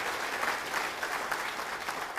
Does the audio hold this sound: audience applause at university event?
yes